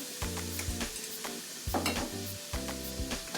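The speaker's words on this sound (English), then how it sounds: "After a couple of minutes pass and the garlic starts to brown a little bit but not burn, then you can add in the zucchini." Zucchini noodles sizzle and fry in a pan with browning garlic, with repeated stirring knocks and scrapes of a utensil against the pan over a steady close-up sizzle.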